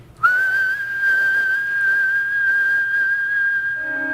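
A person whistles one long, steady, clear note that holds close and loud for about four seconds, alone with no talking.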